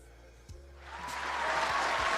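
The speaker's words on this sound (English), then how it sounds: "We need a round of applause." Applause from a gathered audience swells up after a brief quiet start, growing louder and denser over the final second and a half.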